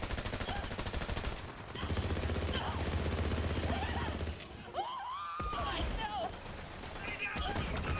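Warlord rifle fired from the hip in Borderlands 3, rapid automatic bursts crackling in close bursts over game effects, with a brief pause mid-clip and a person talking over parts of it.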